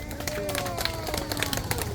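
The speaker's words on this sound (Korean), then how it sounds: "박수 한번 쳐주세요." Outdoor crowd of older residents clapping in a neighborhood park during a summer community event with a gakseori performer, steady dense applause mixed with crowd murmur and a tonal background hum, moderately distant.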